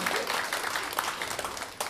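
Audience applause in a concert hall, a dense continuous roar of many clapping hands, loud and close, with scattered sharper claps standing out over about two seconds.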